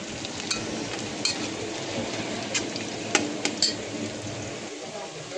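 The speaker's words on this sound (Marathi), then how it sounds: "आपला कांदा इकडं फ्राय व्हायला लागलाय।" Onion frying in a pan for paneer masala gives a steady close sizzle, with a few light metallic clinks of a utensil against the pan scattered throughout.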